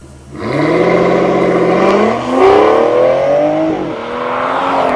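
An Aston Martin Vanquish sports car engine revs hard and climbs steadily in pitch, with a brief gear-change dip before pulling up again, loud and close throughout.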